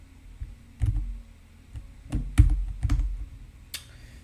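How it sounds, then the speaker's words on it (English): Keyboard shortcuts tapped on a computer keyboard, a few sparse clusters of close, crisp key clicks separated by short pauses, with no voices. "Doing the wrong keyboard shortcuts."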